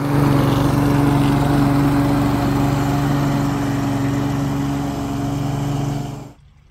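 Lawn mower running steadily while collecting scarified debris from a lawn after dethatching, a loud close engine drone with a constant low hum, then cutting off abruptly near the end.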